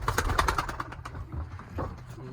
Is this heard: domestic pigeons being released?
yes